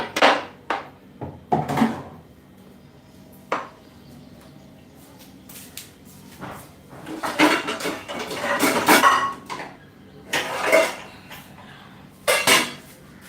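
A metal pan clanks and knocks as it is set down on a kitchen stove for fried rice, with scattered sharp clatters of cookware and utensils over about thirteen seconds and no talk.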